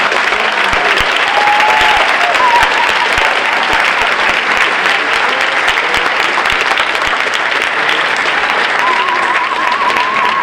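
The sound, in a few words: audience applause at a school event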